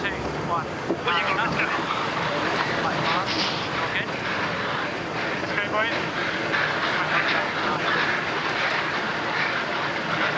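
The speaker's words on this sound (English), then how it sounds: "The sound of the AC-75 being pushed hard." An AC75 racing yacht is pushed hard during a match race, giving a dense, continuous roar of rushing wind and water at close range, with a commentator talking over it.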